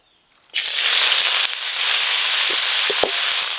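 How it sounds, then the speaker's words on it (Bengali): Washed, chopped red amaranth leaves drop into hot oil with a sudden loud hiss, settling into a steady close sizzle with faint clinks and scrapes of stirring. "কেটে ধুয়ে রাখা লাল শাকগুলো এবার কোঁড়াতে দিয়ে দেব।"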